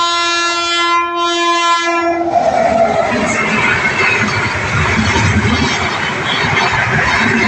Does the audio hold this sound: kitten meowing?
no